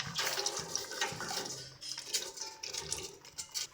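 Shredded green papaya tipped into a pot of hot water on the stove, giving a steady close splashing and pouring wash of water with no talk.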